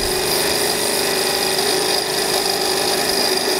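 A small handmade steampunk Stirling engine runs with its flywheel and pulley turning, a loud, steady, fast mechanical whir with a constant high whine throughout.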